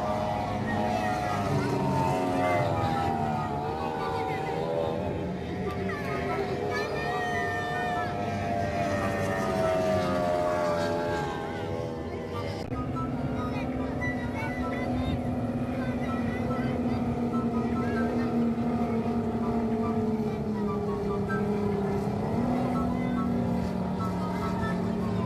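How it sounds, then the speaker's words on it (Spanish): Motorboats running during a boat race practice at Termas de Río Hondo, a sustained droning engine roar with shifting pitch, one tone rising and holding in the latter half, carrying continuously at moderate distance. "están por comenzar la práctica de carrera de botes"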